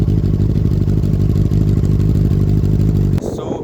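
Benelli TNT 600i inline-four motorcycle engine idles up close, a steady low throbbing hum that cuts off abruptly near the end, leaving quieter rattling.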